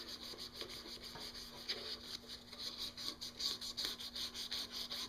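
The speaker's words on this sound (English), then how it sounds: "I'm using some 400 grit wet dry sandpaper. So I'm just going to take this sandpaper" 400-grit wet/dry sandpaper rubs along the edge of a Yamaha Venture motorcycle windshield, giving a quiet, close, continuous scratchy rasp with rhythmic back-and-forth strokes over a faint steady hum.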